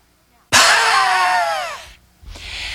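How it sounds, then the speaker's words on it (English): A strong breath forced from the diaphragm through pressed lips makes a loud, close wheezing hiss with a whistling edge, lasting about a second and a half before fading, followed by a softer breath. "You'll notice the wheezing sound."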